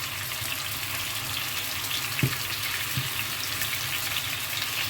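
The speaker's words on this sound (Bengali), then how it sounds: "সেজন্য এগুলো আস্তে আস্তে আমি ভেজে নেব, একটু ফ্রাই করে নেব।" Afghani chicken pieces, four at a time, frying in a large kadai give off a steady, even sizzle that runs the whole time, with a couple of brief soft knocks partway through.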